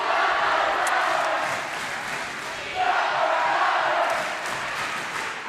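Crowd at a high school volleyball match between Hudson's Bay and Fort Vancouver cheering and shouting in a gym, a loud, continuous roar that swells again midway, with an announcer's voice faintly under it.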